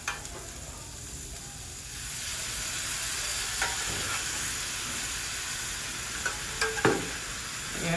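Shrimp lo mein vegetables stir-fry with Asian brown sauce in a hot pan, making a steady close hiss and sizzle that grows louder as the sauce goes in, with occasional scraping clinks of a utensil.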